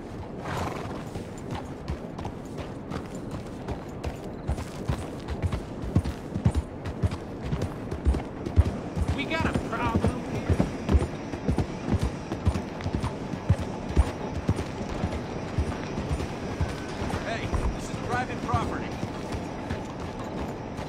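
Horse hooves clip-clop in a steady, brisk rhythm during a horse ride along a road in a western video game, with an occasional whinny over the continuous trotting.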